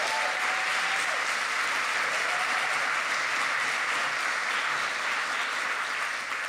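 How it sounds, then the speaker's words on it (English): An audience at a local ward candidates' debate in London gives the candidates sustained applause, a thick wash of clapping that holds steady at one level for several seconds without any speech. "Let's give them a big round of applause."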